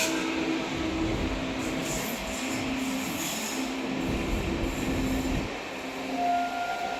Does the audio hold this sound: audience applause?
no